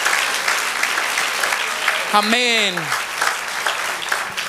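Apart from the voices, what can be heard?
congregation applauding in church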